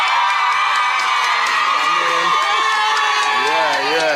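A large crowd cheers, shouts and whoops at a talent show, loud and continuous, with children's voices and a voice speaking over the din.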